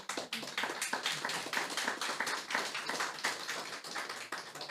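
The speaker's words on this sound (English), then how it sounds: "That's the most unexpected applause that I've ever gotten in my life" An audience at a lecture breaks into applause: a run of distinct, fairly quick claps that rise and fall in loose waves, heard at a moderate distance and fairly soft, with no talking.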